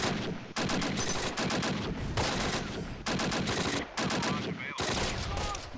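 Gunfire in the Close Combat: Last Stand Arnhem war video game: loud, sustained rattling bursts of rifle and machine-gun fire broken by brief gaps, with no speech.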